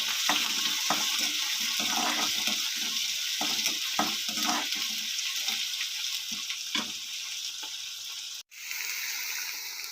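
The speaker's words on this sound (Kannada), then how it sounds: "ಈರುಳ್ಳಿ ಫ್ರೈ ಆಗಿದೆ." Onions frying in a pan for vegetable paddu, a dense hiss of sizzling oil with soft stirring strokes early on, steady and close, briefly cut off near the end.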